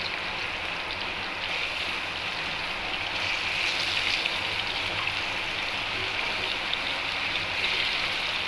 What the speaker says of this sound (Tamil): இந்த முட்டையை இதில் வைக்க போகிறோம். அது ஃப்ரை பண்ண போகிறோம்.